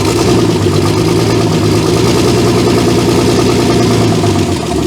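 A Holden VL six-cylinder turbo engine idling up close, a loud steady rumble with an even pulsing rhythm and no talking.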